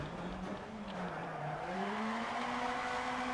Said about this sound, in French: la voiture qui drift exactement comme je le veux